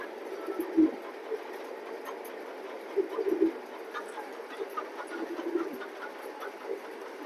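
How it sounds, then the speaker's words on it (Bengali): Big blue pigeons in a loft cooing softly, a few low throaty coos at irregular moments over a quiet background. "বিগ সাইজের কবুতর।"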